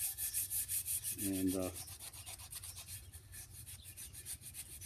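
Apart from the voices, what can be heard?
hand sanding a wooden axe handle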